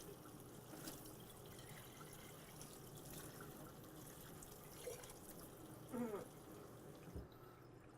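A tap runs a soft-water stream through a home water softening system in a steady, gentle flow, with a few brief louder gurgles partway through and no talking.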